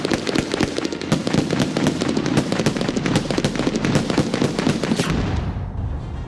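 Diwali firecrackers crackle and pop in a rapid, continuous string of sharp bangs, fairly close, then stop abruptly near the end, leaving faint residual noise.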